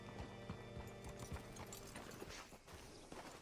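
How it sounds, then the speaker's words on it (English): Horse hooves clip-clop at a steady walking pace in Red Dead Redemption 2, set at a ranch homestead, with the regular footfalls standing out clearly over a dense layer of game ambience. "Hitch your horse up here."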